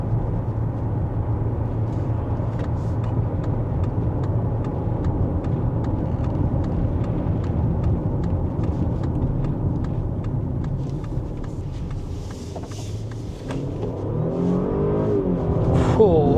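Volkswagen Touareg R 3.0T V6 plug-in hybrid on the road, a steady, fairly subdued engine and road drone with a brief swell near the end, a voice talking over it throughout.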